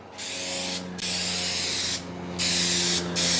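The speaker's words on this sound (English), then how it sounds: "I'm going to flare this paint into, just barely flare it into the area where I scuffed it" Bursts of spray paint hissing from a gun onto a scuffed panel of a 1985 Toyota SR5 pickup, three or four steady passes a second or so long, separated by short pauses, close and fairly loud.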